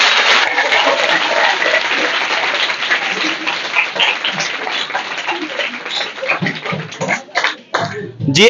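An audience at a coaching-class crash course claps loudly and steadily for a student, a dense sustained applause that thins out near the end.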